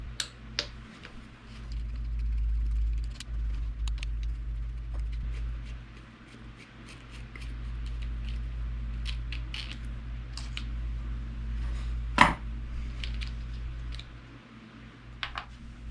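Small clicks, creaks and plastic ticks come from a Traxxas TRX4 RC truck shock absorber being taken apart by hand for an oil change, scattered close-up taps over a steady low hum, with one sharper snap near the end.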